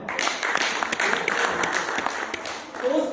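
Audience applause at a Mahatma Gandhi International Peace Award event, steady dense clapping filling the whole moment, with a faint voice showing through near the end.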